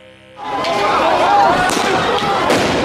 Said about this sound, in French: Examinez l'explosion suivante.